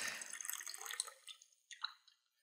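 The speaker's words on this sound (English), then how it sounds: "It's just Peter pouring water out of a massive water bottle" Water glugs out of a massive water bottle in uneven splashy gurgles that fade, then a short final spurt, fairly faint and close with no talking.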